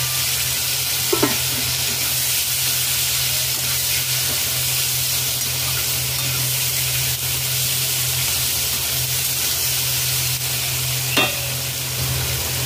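Pumpkin and potato pieces fry with asafoetida in a pan, giving a loud, constant close-up sizzle and hiss, with a couple of sharp utensil scrapes against the pan.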